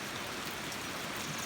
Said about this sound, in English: Rain's still coming down.